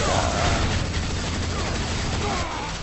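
Stinger minigun firing in Unreal Tournament 3, a dense, continuous rattling stream of rapid shots that stays loud and steady across the whole stretch.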